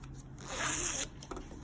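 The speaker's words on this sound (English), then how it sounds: "You want to make sure that your zipper opens and closes okay" A zipper on a fabric pumpkin purse is run open and closed in one quick, close, raspy pull lasting under a second, followed by faint handling noise.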